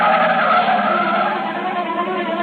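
A car skids with a long, loud tyre squeal and then drives off as a sound effect in a radio suspense drama, one sustained screech close and alone.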